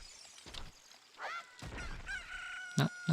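A chicken in a video game gives a rooster-like crow and squawks among sharp game effects and a shattering sound, fairly faint.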